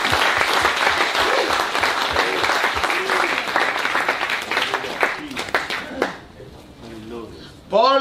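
A church congregation in Taravao, French Polynesia, bursts into loud, dense applause that carries on for several seconds, then thins out and fades. A voice speaks over the tail end.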